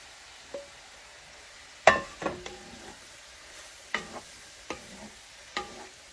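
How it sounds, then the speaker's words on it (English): Zucchini cooks in a pan on a stove already switched off, with a faint sizzle under sharp, scattered clinks and scrapes of a utensil stirring the vegetables. "Now, I'm going to put all my zucchini back in here"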